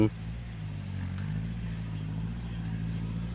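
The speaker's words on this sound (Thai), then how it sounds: "เครื่องยนต์ สี่สูบ ไม่รู้เครื่องอะไรนะ" A four-cylinder engine on a cassava digging machine idles steadily nearby, a low even rumble after a brief knock at the start, with someone talking over it.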